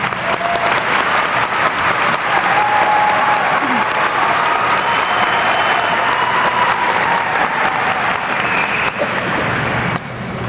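An audience at a high school commencement applauds, a dense, loud wash of clapping from a large crowd that holds steady for about ten seconds before dropping off slightly at the end.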